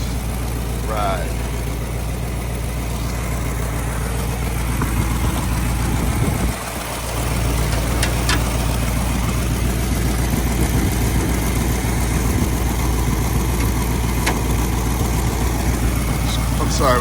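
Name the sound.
1968 Ford Bronco engine idling with small exhaust leak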